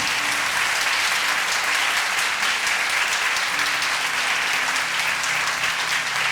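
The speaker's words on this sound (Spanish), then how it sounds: "Dale un aplauso al Señor porque está en ti." A church congregation bursts into full, sustained applause during a Spanish-language sermon, loud and even from start to finish with a faint background hum beneath.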